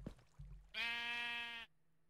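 A sheep from the Minecraft video game gives a single clear, nasal bleat lasting nearly a second, heard alone after a couple of faint soft thuds.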